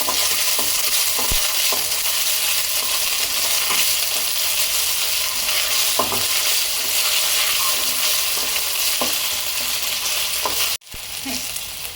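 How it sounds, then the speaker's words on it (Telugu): Onions and ginger-garlic paste sizzle steadily in a hot pan for egg pulao, a continuous close frying hiss with occasional stirring clicks, briefly interrupted near the end. "అల్లం వెల్లిపాయ 1 టేబుల్ స్పూన్ వేసుకొని ఇది మంచిగా కుక్ అయ్యే వరకు వేసుకోవాలండి"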